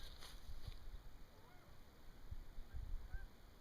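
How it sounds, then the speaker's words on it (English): A flock of geese honking as they fly over rural Tennessee, faint and distant, scattered honks over wind and soft background noise. "It's a flock of geese flying."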